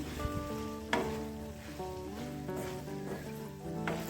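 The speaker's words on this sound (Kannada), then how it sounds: "ಸಣ್ಣ ಉರಿಲಿ ಬೇಯಿಸ್ಕೊಳ್ಳೋಣ" Ivy gourd palya, spiced with coriander and cumin powder, sizzles gently in a pan over a low flame, a soft steady crackle under a constant background hum with a couple of brief clicks.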